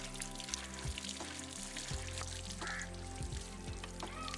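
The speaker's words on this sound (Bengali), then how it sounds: "এবারে ধুয়ে নেবো ভালো করে।" Ivy gourd shoots being washed by hand in a bowl of water in a home kitchen, soft sloshing and splashing with small gurgles, close and quiet.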